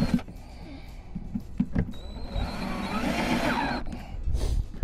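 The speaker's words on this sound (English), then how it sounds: "And it will be time for me to drill the entry holes." A small electric drill whines up briefly and bores bee entry holes into a wooden top bar swarm box for about two seconds, close by, with light clunks before and after.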